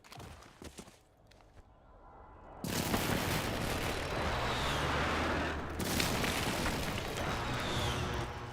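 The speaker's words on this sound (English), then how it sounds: "Hostile airstrike incoming. That's a crazy airstrike." Airstrike in a multiplayer shooter game: after a quieter stretch with scattered shots, a dense barrage of explosions and gunfire erupts and roars on loudly, with a second wave of blasts near the end.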